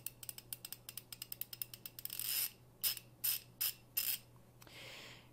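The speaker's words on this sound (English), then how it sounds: "just so you can hear the teeth in there, that's going to be kind of the thing that determines how good this ratchet really is" A hand ratchet with a 72-tooth gear clicks in a quick, even run of fine close-up ticks, then gives several louder, separate ratcheting strokes and a softer final rasp, with no talk.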